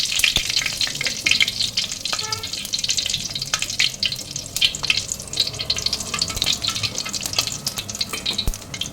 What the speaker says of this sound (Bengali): এই তেলের মধ্যেই আমি শুকনো লঙ্কা, তেজপাতা আর জিরে ফোড়নে দিয়ে দিলাম।